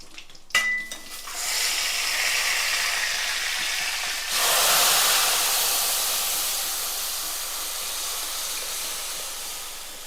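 A piece of asafoetida fries in hot oil before dal is added, giving a sharp clink and then a steady, loud sizzling hiss that swells partway through and gradually fades.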